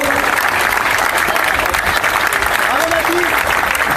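Steady, loud audience applause for the winner at a festival closing ceremony, dense continuous clapping with voices mixed into the crowd noise.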